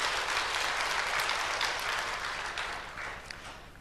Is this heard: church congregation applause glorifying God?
yes